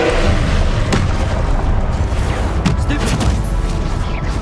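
Confringo blasting spells go off in the Hogwarts Legacy game, a dense run of loud booming explosions and crackling bursts that continues without a break, with voices faintly present.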